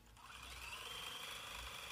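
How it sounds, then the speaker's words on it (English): A sewing machine runs a straight stitch around a fabric applique for trapunto quilting, with a steady, even, rapid mechanical whir close by and nobody speaking. "bring this to the sewing machine, and I'm going to do a straight stitch all the way around"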